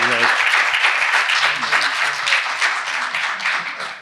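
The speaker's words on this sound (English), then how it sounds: "deserves a round of applause." An audience applauds a panel guest, a dense burst of clapping that fades toward the end, with a brief voice at the very start.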